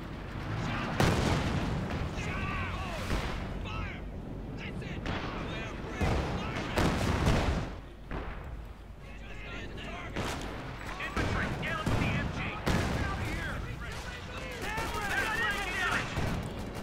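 Gunfire and explosions from a Company of Heroes 2 real-time strategy battle between US and German forces, with a Sherman tank struck by a Panzerfaust: repeated shots and booming blasts, dense and loud throughout, with a voice commentating over them.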